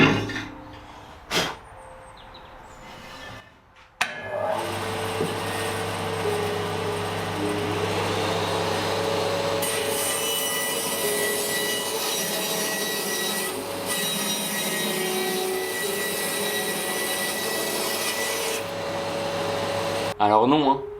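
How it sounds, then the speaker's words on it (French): A Hammer N2 35 band saw rips through a 6 cm thick piece of very dry oak, a loud sustained whining cut that runs steadily for about sixteen seconds after a few knocks, then stops abruptly. "on va attaquer par cette pièce de chêne. Elle fait 6 cm de hauteur. Et c'est du chêne très sec."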